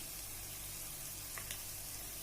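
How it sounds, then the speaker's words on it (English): Mushroom masala frying with Kashmiri red chili powder, garam masala and turmeric gives a steady, even hiss of sizzling oil, faint and continuous, with a couple of soft stirring clicks and no talk. "I'm going to fry this up"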